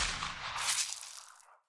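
A gunshot in the video game Steins;Gate 0, one loud blast with a rough, noisy burst that rings out and fades over about a second and a half.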